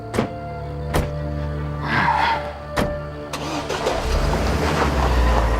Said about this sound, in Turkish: Arabayı çalıştır, arabayı çalıştır.